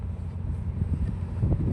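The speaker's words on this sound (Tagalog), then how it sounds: "malakas ang hangin" Steady low, rumbling wind by the sea at Baseco, Manila, buffets the microphone outdoors while fishing, a continuous blustery roar with gusts swelling toward the end.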